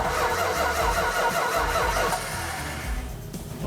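A go-kart engine starts up nearby, catching with a rough, loud mechanical rattle and sputter before dropping to a slightly quieter running note.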